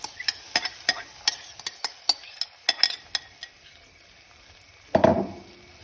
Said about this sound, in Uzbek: Endi buni qizib turgan tovada pishirishni boshlaymiz